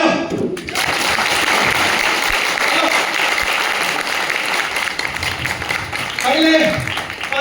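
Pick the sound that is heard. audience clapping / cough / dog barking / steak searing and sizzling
audience clapping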